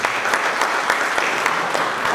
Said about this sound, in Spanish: Yo les pido un aplauso.